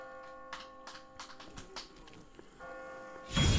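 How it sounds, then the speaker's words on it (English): Church bells in The Walking Dead video game: ringing tones that hang on under a series of ticking knocks, then a loud burst of noise at the very end. "I just got spooked by those bells"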